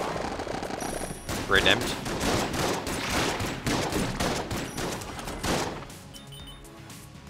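Rapid volleys of gunfire from a gun in Enter the Gungeon, repeated bursts across the clip, moderately loud, with a voice talking briefly over them.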